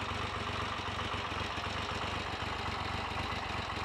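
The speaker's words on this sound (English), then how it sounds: "There are only two things that can sound like that: Triumph Tridents and BSA Rocket Threes and their variants." A Triumph Trident T150V three-cylinder motorcycle engine runs at a steady idle with a dense, even, continuous rumble, close and moderately loud, with no talk.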